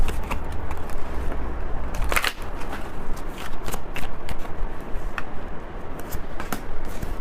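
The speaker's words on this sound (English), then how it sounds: "I'm gonna pull a few cards before I slide." Tarot cards being shuffled by hand, a riffling burst near the start followed by soft repeated card slides and taps against steady room noise; no one speaks.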